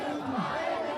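A dense street crowd at a Sri Lankan New Year protest amid economic crisis keeps up a steady, close murmur of many voices, with one voice briefly rising above the din.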